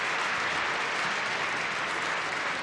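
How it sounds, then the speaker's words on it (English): Dense, steady applause from a large concert audience on its feet in Symphony Hall. The clapping is continuous and even, with no talk heard over it. "many are just standing here in Symphony Hall and applauding"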